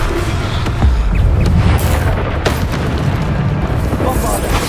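In Hogwarts Legacy the Descendo spell lands with a heavy booming impact and a rumbling crash, loud and close amid dense game effects, with a voice calling out over it.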